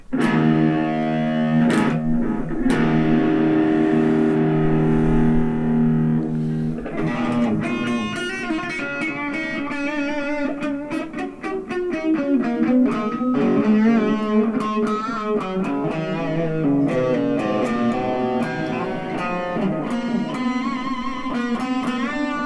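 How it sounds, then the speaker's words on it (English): Electric guitar played through a Blackstar Fly3 mini amp with reverb and delay, phrases ringing out and trailing into echoes, with sustained chords giving way to busier picked lines, loud and continuous throughout. "Sounds like a nice bit of reverb."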